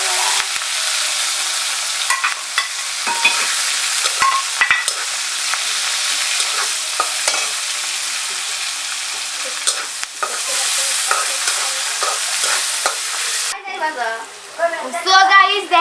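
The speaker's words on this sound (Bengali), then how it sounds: "এখানে রসুন, পেঁয়াজ আর কাঁচামরিচ আছে, এইগুলো আমি দিয়ে ভালো করে" Garlic, onion and green chili sizzle loudly as they fry and get stirred in a village kitchen pan, a steady crackling hiss with scraping strokes throughout, easing near the end where other sounds come in.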